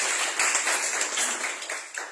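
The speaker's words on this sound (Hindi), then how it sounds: "यस, ये भी तालियां बजाना चाहिए यीशु के लिए" A church congregation at a Christmas service claps together in a steady, dense patter of many hands, moderately loud and unbroken by speech.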